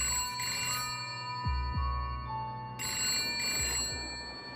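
A landline telephone rings inside the video game The Stanley Parable, two loud bursts of electronic bell trills with a pause between, over a steady low hum and without speech.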